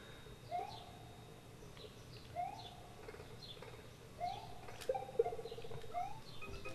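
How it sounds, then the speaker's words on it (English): Bird in a video game gives short repeated hooting calls, about five evenly spaced notes at moderate loudness over a faint background with occasional clicks. "Oh, you stupid bird."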